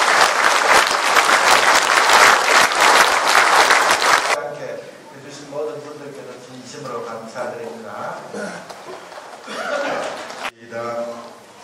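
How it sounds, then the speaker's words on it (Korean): A church congregation applauds the choir after a Christmas performance. About four seconds of loud, dense clapping come first, then it fades out as a person starts speaking. Light laughter and chatter continue underneath. "성가대 정말 수고 많이 하셨는데 성가대 박수를 받고"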